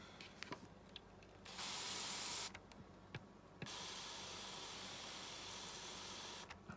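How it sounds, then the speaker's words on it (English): A spray bottle mists moss inside a tarantula enclosure: two close, hissing bursts, a short one followed after a pause by a longer sustained spray. "Give that a spray."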